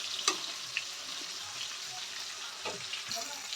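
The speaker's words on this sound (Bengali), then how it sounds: "তাহলে আমি মাছগুলো হালকা ভেজে নেব।" Pieces of katla fish fry in hot oil with a steady bright sizzle throughout, a few louder crackles and spatters, and some soft clinks of a utensil stirring or turning the fish.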